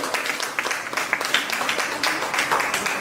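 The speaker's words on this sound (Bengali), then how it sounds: "একটা জোরে হাততালি বাকি কিছুর জন্য" Audience applause at a Purulia chhau-themed reality show, a steady crowd of hands clapping continuously at moderate loudness throughout.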